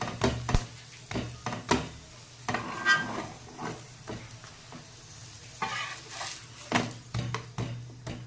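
Cauliflower paratha frying on a griddle in oil, ghee or butter, giving a soft steady sizzle broken by sharp scraping and clinking as it is turned and pressed.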